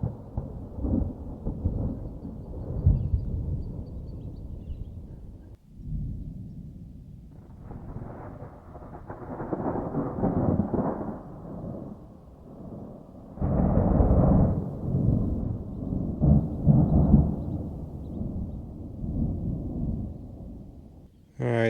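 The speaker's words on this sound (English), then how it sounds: "Nothing like thunder." Deep, powerful thunder at about 8,500 feet on high ground among pine trees, several long rolling rumbles swelling and fading over twenty seconds, loud and close, with a sharp crack at the very end.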